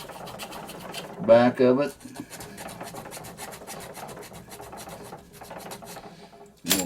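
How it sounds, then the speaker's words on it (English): A hand file rasping against the metal of a Zaima Celeste butane lighter during a service, two brief loud strokes early on and then lighter scraping, with someone speaking over it. "file here. Start filing down the"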